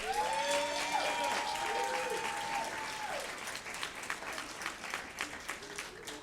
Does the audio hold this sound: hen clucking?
no